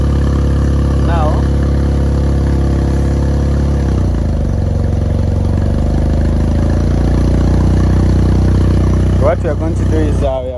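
Yamaha TMAX 500 scooter with a failing charging system, its engine running steadily close up and rising slightly as the throttle is blipped, with a person talking over it.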